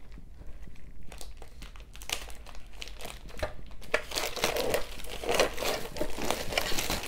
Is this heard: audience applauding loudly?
no